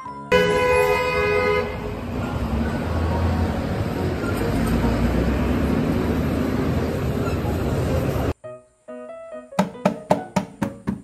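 A city bus horn sounds a long, loud, sustained toot with the engine rumbling underneath. After a short silence comes a rapid series of sharp, repeated honks.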